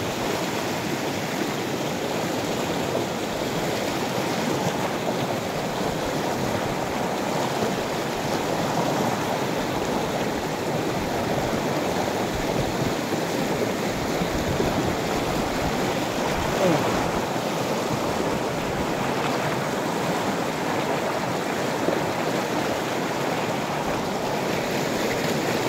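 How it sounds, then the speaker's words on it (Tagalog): A strong current of the Panipyason River in Madalag, Aklan rushes continuously, a loud, broadband roar of flowing water that stays steady for the whole stretch. "Tapos malakas yung current ng tubig."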